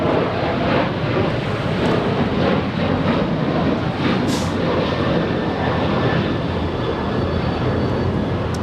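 A Lufthansa airliner lands steeply nose-down at Los Angeles International Airport with a loud, continuous jet roar, mixed with gusty wind noise on the microphone.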